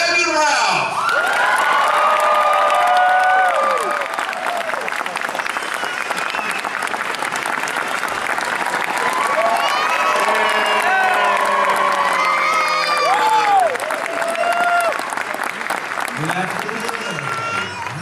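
Comic Con crowd greets actor Brandon Routh with sustained loud applause and whoops, cheering shouts rising and falling over continuous clapping for the full stretch, an announcer's voice heard over it.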